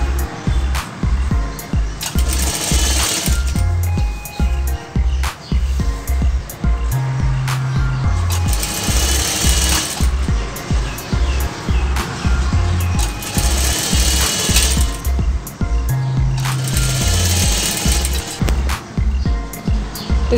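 A sewing machine stitching salwar fabric, running in steady rapid bursts of close, loud mechanical clatter with short pauses between runs.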